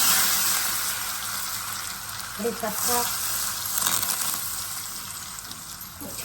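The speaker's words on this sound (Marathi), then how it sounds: "लसूण गरम करून घेतलं आपण मोहरी आपण टाकू जिरे आपण टाकू लसूण" Garlic, mustard seeds and cumin sizzle steadily in hot oil for a tadka, a close, continuous frying hiss with a few crackling pops as the spices hit the pan.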